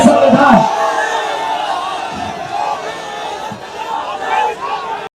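Large crowd at a Rahul Gandhi political rally in Bihar roars and shouts in a sustained, loud wash of massed voices, swelling near the start and again toward the end.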